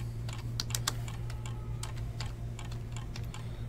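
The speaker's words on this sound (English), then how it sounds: "Let me just type that in." Steady typing on a computer keyboard during a baseball card box-hit draft, a close run of light, quick clicks over a constant low hum, with no talking.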